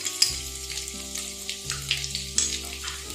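Chopped garlic fries in hot oil in a wok over a medium flame, a busy crackling sizzle with small pops throughout, close and steady, with no talking.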